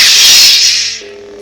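A Galaxy's Edge Luke Skywalker legacy lightsaber ignites with a loud, bright hissing surge that settles after about a second into a quieter low hum, heard up close and alone.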